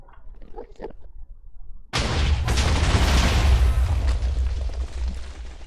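A TNT cannon in Minecraft goes off in a big, loud blast after a second or two of quiet, faint game sounds, then booms and rumbles on with crackling debris until the end.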